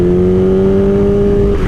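A heavy motorcycle of about 500 pounds idles and hums steadily with light throttle, a loud, close, even engine drone with no talking.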